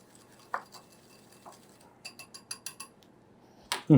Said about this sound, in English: And then using a whisk, I whisk it together.